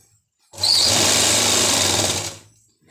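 A sewing machine stitches the seam of a circular palazzo, a loud, steady close-up whir running for about two seconds before stopping, with nothing else around it.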